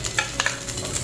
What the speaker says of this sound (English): I'm just going to take one tawa and I'm just going to add a little bit of oil so that it doesn't get burned.